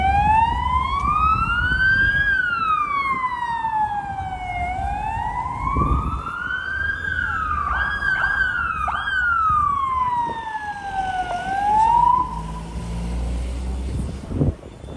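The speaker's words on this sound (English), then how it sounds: "Whoa, fire machine" Fire engine on a Russian street wails its siren close and loud, the tone sweeping up and down in long slow cycles with a few quick yelps, over traffic rumble.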